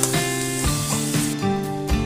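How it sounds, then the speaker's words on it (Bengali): Spices with turmeric, Kashmiri chili powder and sugar sizzling in a hot pan for a cabbage and fish-head curry, a loud continuous frying hiss with brief stirring scrapes. "এবার সব মশলা ভালো করে কষিয়ে নেব।"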